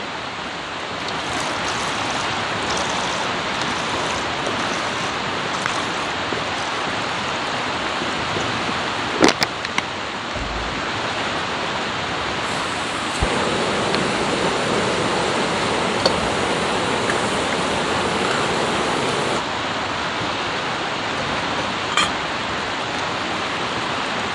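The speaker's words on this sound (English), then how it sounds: "Silly little stove, but it works really well. Only 25 grams, which is just crazy, isn't it? So get that going." A tiny 25-gram backpacking stove burns while heating 500 ml of water, making a loud, constant roaring hiss that runs unbroken for about 24 seconds. A few faint clicks and knocks come through, with no talking.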